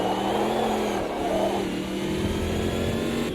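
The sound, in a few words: V8 race car engine revving, Automobilista 2 video game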